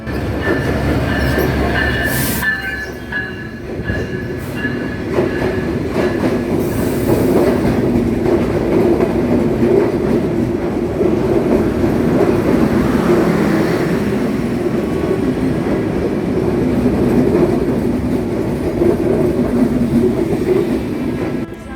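The Dhumketu train rumbles loudly nearby, wheels clattering and squealing steadily on the rails as it rolls into a Rajshahi station, with a brief high whistle early on.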